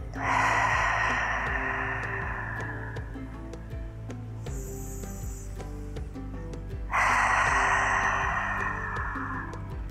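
During outdoor yoga, a person takes slow, deep breaths, with a long audible inhale-exhale at the start and another near the end, separated by a quieter pause, close and clear.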